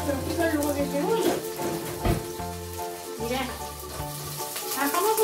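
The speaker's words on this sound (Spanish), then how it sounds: "se las sofrío un poquito, no mucho, con los ajos y todo entero" Whole onions and garlic cloves lightly frying in a pan, a soft steady sizzle under background music with a few brief louder crackles and bumps, close but not loud.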